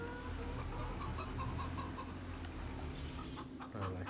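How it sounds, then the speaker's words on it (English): Chickens cluck in the farming video game Farming Simulator 25, short repeated calls heard over a steady low in-game background hum. "Oh, hello chickens."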